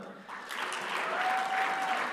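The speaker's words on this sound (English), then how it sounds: "cue the largest, loudest applause of all time" A large audience at a STEM network founding event breaks into applause, a broad wash of clapping that builds slightly after the start and stays loud and sustained, with a faint tone running through the middle.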